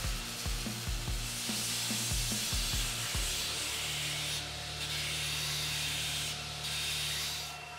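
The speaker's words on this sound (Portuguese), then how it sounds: "O acabamento vai ser só aqui na lixadeira mesmo" A belt sander grinds against wood in short, repeated strokes, then settles into a continuous abrasive hiss with a steady motor hum.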